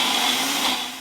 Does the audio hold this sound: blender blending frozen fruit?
yes